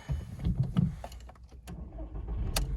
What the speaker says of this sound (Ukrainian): Заводиться автомобіль взагалі з півоберту.